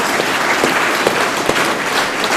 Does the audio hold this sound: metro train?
no